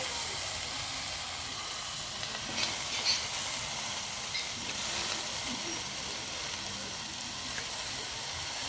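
Cumin powder sizzles in hot oil during Bengali singara cooking, a steady, close, bright hiss that holds evenly throughout with a few faint crackles.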